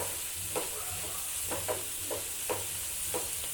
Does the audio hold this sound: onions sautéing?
yes